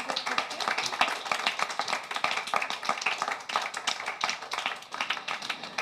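An audience applauds the authors at a crime-fiction book event, a steady patter of many hands clapping at moderate distance for several seconds with no talk over it.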